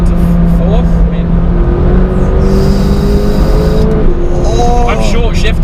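McLaren 570GT sports car climbing a volcano road, its engine dropping into fourth gear and accelerating hard, the revs rising in a loud close howl before a quick shift and another surge, with someone talking over it.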